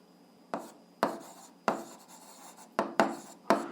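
Pen strokes scratch across paper in short separate bursts while algebra work is written out, about six quick scribbles with quiet gaps between them, close and soft.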